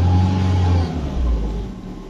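A car engine revs up as the driver accelerates during an OBD2 scanner test, a steady loud drone that rises briefly and then settles, heard alone.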